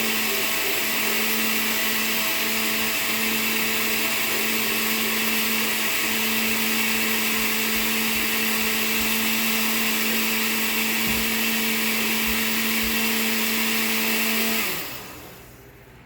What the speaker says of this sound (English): just a few more seconds with the pulse on the blender.